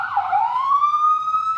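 Police car siren in a kids' animation about trucks and rescue, a single loud rising wail that levels into a steady held tone, heard alone.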